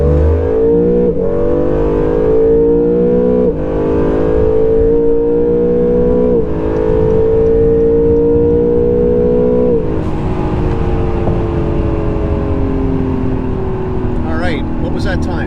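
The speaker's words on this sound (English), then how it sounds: "we're gonna do a quick quarter-mile run here and see what the car will do" An Acura NSX at a drag strip accelerates hard through a quarter-mile run, its engine note climbing steadily through repeated gear changes, loud and continuous throughout.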